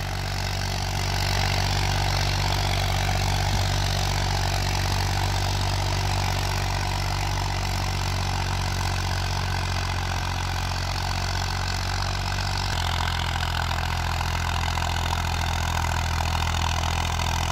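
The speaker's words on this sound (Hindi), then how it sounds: "ट्रैक्टर दम नहीं तोड़ रहा, जितना धुआं फेंक रहा है" A 1991 Massey 35 tractor engine runs steadily with a cultivator attached, a loud continuous drone that holds even for the whole stretch, with a slight shift in tone near the end and no talking.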